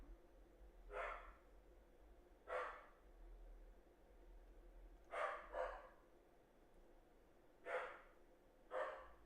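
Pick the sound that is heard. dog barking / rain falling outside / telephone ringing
dog barking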